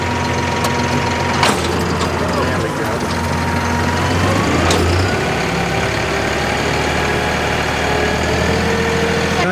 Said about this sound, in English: Can't even get the tractor started because you don't weigh enough